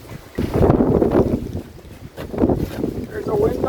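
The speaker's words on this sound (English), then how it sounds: "There's a wind blowing." Wind blows outdoors around mounted air plants (Tillandsia), a loud, close, gusting rumble that buffets the microphone in two long surges.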